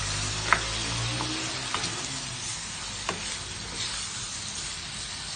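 Small cleaned squid sizzle steadily in a hot pan for adobo, a continuous close frying hiss with a few faint clicks and stirring taps, no voices.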